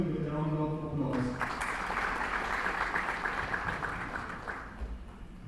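Audience applause at a startup investor event in Nashik welcomes a speaker. It starts after a brief stretch of talking and continues as a steady crowd clapping that slowly fades toward the end.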